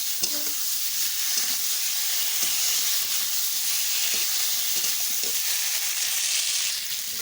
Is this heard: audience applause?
no